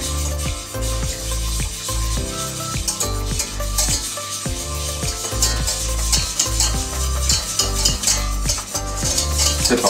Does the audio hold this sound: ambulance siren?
no